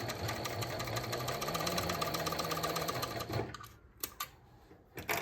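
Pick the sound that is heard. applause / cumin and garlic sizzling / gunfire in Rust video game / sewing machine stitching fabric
sewing machine stitching fabric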